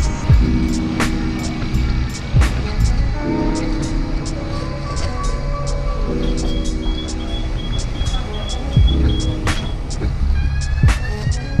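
Low engine hum and throbbing fill the cabin of a newer bus with a padded interior steadily, with occasional clicks and rattles over the drone; no talking.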